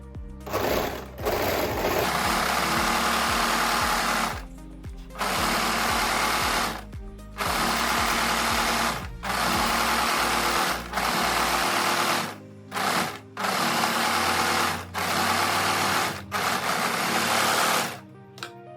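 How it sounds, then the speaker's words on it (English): An overlocker runs in repeated bursts while hemming a blouse, its rapid mechanical whir starting and stopping with short pauses between stitching runs, close and fairly loud. "And whilst I'm at my overlocker, I'm also going to overlock my hem."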